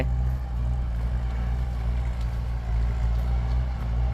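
A Kubota M8808 tractor engine idling or running steadily while preparing soil for planting cassava, a low continuous rumble with no speech, moderately loud and even throughout.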